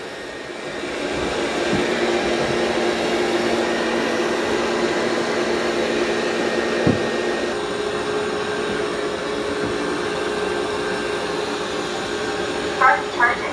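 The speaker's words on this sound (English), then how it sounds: "They're also going to auto empty, so they're going to suck everything out that's in that dustbin that I showed you." A Dreame X30 Ultra robot vacuum dock auto-empties its dustbin, giving a steady, fairly quiet suction whoosh that runs on without a break, with a few faint knocks and a brief clatter near the end.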